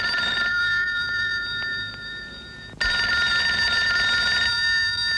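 A telephone rings with a loud, bright electronic trill, repeating in two long bursts separated by a brief pause, close and alone in the scene of an Indonesian comedy film.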